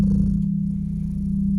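A cat named Perseus purrs steadily up close, a continuous low rumbling drone with no pauses, loud and alone throughout.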